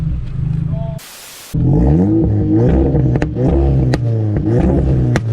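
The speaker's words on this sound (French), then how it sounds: "On va écouter le neutre les amis, j'ai peur." A tuned car engine revs hard in neutral, close and very loud, with repeated rising and falling revs after a brief quiet gap near the start, and some clattering mechanical noise mixed in.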